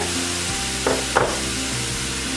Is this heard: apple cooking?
yes